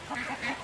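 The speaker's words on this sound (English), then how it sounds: "you see the mama duck right over here" A mother duck sitting over her ducklings quacks agitatedly, a quick run of nasal, rhythmic calls close by and fairly loud.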